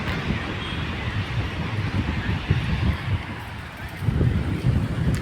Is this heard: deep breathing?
no